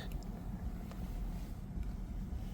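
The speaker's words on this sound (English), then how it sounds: "if that wind noise is going to bother you, I mean, it's very minimal" A Tesla with a roof crossbar cruising at around 83 produces a steady, faint low rush of wind noise inside the cabin, constant and unbroken throughout with no talking.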